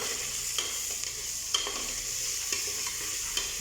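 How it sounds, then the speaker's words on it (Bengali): Chillies frying in a pan while a spoon stirs them, a steady sizzle with scattered scraping taps, close and moderately loud, with no talk. "মরিচ দিয়ে আবার মরিচটা একটু লাড়িয়ে দেবো"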